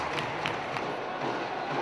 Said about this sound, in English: Round of applause as he gets on his feet quickly